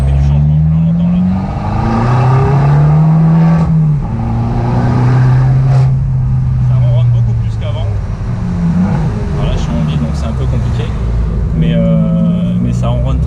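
Abarth 595 engine with a new exhaust revving loudly and deeply, steady low rumble rising and falling in several throttle blips across the clip, close by.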